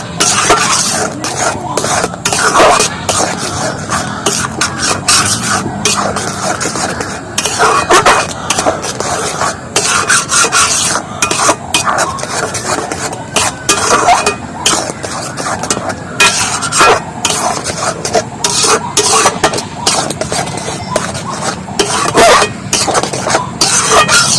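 A spoon stirs spice into sticky tamarind pickle in a metal pan, giving steady close scraping and clinking with a faint sizzle underneath, continuous and fairly loud, with no talk.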